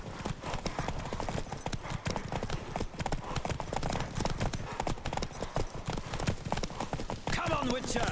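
Galloping horse in a Witcher 3 race, a fast continuous drumming of hooves, loud and close, mixed with game music while voices call out over the run.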